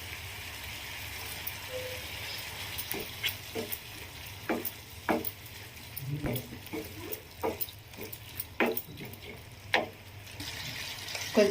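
Ridge gourd fries in a pan with a continuous low sizzle, broken by repeated sharp scrapes and taps of stirring close up.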